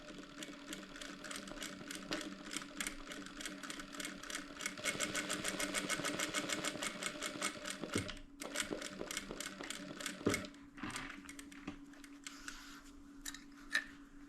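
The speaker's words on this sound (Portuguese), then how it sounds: "Vamos costurar essa aqui com um pezinho de máquina" Sewing machine stitching a fabric cosmetic bag with a presser foot at stitch length 2, a close, steady rapid whir for about eight seconds, then short bursts of stitching with pauses and clicks.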